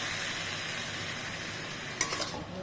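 Coriander leaves sizzle steadily in a hot pan with a continuous frying hiss, then a spoon scrapes and stirs in a few quick strokes near the end.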